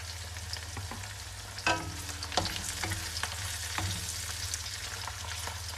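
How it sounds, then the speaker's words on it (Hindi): Onions fry in a pan with a steady low sizzle, while a spoon stirs and scrapes intermittently, giving a few louder knocks against the metal. "इनको हम लोग फ्राई करेंगे"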